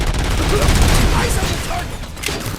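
Continuous game combat in RoboCop: Rogue City, a dense rattle of rapid gunfire with heavy low booms from a grenade blast, loud and sustained throughout with voices shouting over the din.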